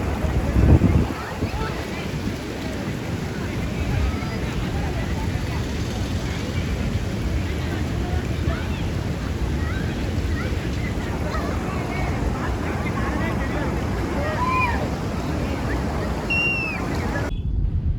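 Fast-flowing water at Siruvani falls, a steady loud broadband rush lasting throughout, with wind buffeting the microphone and faint voices in the background.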